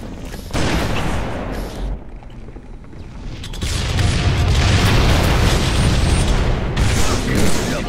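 Rocket explosions in the video game Kimetsu no Yaiba, loud booming blasts and gunfire-like bursts in a dense, continuous battle mix with a brief lull midway.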